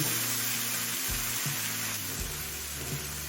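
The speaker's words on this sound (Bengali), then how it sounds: "এবার দিচ্ছি ভেজে রাখা মাছের মাথা আর দিচ্ছি ক্যাপসিকাম" Fried fish heads and capsicum sizzle in a pan, a steady dense crackle with a few louder stirring scrapes, close and alone without talk.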